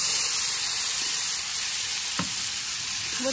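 Steady broad sizzling hiss of a hot pan of Bengali katla fish head curry (muri ghonto) being cooked down, with one brief sharp spatter partway through; loud and close, no voices.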